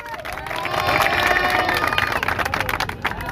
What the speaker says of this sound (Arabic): تصفيقة.